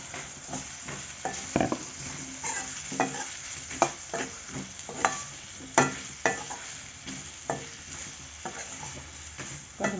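Mango pieces frying in spiced oil with chilli powder, turmeric and asafoetida for a sweet Goan-style mango pickle, a steady low sizzle broken by repeated scraping stir strokes in the pan.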